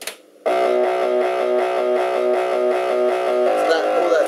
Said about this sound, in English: all that distortion, that's the sound that we took from Logic